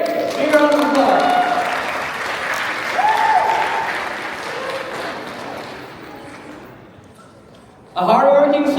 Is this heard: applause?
yes